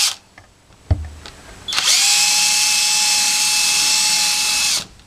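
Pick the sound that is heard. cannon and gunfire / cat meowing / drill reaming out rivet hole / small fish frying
drill reaming out rivet hole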